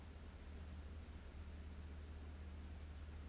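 Steady rain falls outdoors, a soft, even hiss of drops that holds at a constant low level for the whole stretch, with no voices over it.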